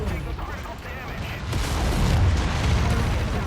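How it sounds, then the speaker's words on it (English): Mech cannon firing in MechWarrior 5, a heavy booming blast that swells into a loud, sustained roar of rumbling explosion and gunfire-like crackle. "I'm just having this cannon just burn away every opportunity it gets."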